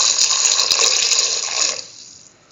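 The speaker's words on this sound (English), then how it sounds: "Now pour in 300 ml of water." Close and fairly loud, 300 ml of water pours into a pot of pumpkin beef rice as a steady splashing rush that cuts off sharply after under two seconds.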